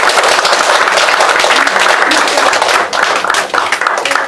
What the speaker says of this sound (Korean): 우리 연상 씨, 연상 선생님에게 박수 한번 하시라면.